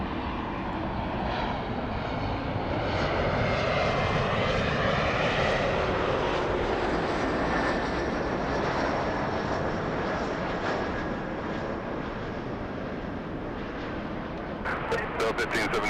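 A Delta airliner's jet engines roar steadily at LAX during a takeoff from runway 24 left, a loud, continuous broadband rumble with a slowly shifting whine that holds for the whole stretch.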